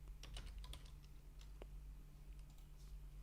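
Quiet, close clicking of someone typing a few keystrokes on a computer keyboard, with short bursts of key taps over a low steady hum.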